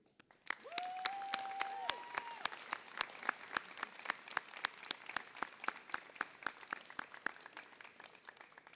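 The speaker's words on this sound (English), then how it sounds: "please give a round of applause to thank the special person that has been instrumental in your educational career" A graduation ceremony audience claps, sharp individual hand claps forming a crisp, fairly close patter that runs throughout while a brief tone-like sound rises at the start.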